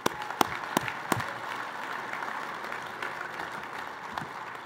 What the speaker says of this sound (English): So a round of applause for Roger Thomas.